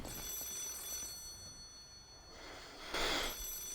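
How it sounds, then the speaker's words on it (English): A telephone rings in the video game Lies of P, with a brief bright ring burst near the end following quieter ringing earlier over a dim ambient game background. "Oh, another phone."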